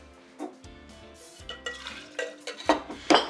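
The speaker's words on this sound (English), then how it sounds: "since we got an egg white in here, we're going to give these a nice dry shake" Egg white cocktail being dry shaken in metal shaker tins without ice, producing a rapid series of rattling, clinking knocks that grow louder and more vigorous toward the end.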